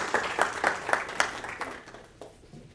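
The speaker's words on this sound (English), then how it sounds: "Let's give them all a big round of applause" An audience applauds a graduate at a computer science recognition ceremony, with sparse, fairly quiet claps in a loose rhythm that thin out and fade by the end.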